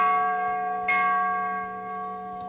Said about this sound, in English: the bell at the top of the bell tower finally began to swing back and forth